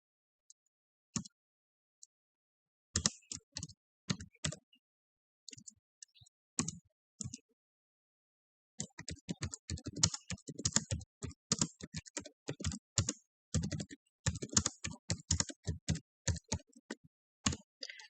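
Keys clatter on a computer keyboard while HTML is written in Notepad: scattered taps at first, then a fast, steady run of close, crisp keystrokes, with no voice over them.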